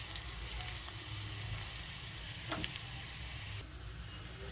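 A tadka of ginger strips and two dried red chillies sizzles steadily in hot oil, a constant crackling hiss at low to moderate level with a few small pops, and no one talking.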